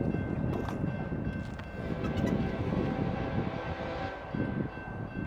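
Union Pacific freight train locomotives passing near Kimball, Nebraska, a steady loud rumble of heavy rail cars with rattling and a faint sustained horn tone, buffeted by wind on the microphone.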